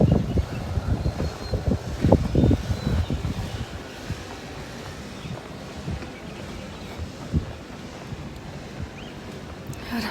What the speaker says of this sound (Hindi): ऐसा मौसम हो रहा है, हवा चल रही है।